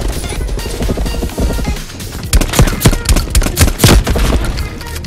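Rapid bursts of gunfire in Black Ops Cold War, dense overlapping shots and loud cracks building in intensity, with no speech.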